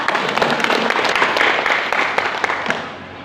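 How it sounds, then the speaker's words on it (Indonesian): Audience applause at a health and success seminar in Indonesia, a loud, close burst of many people clapping with a few sharper individual claps, fading slightly toward the end of about three seconds. "Tepuk tangan untuk kita semua."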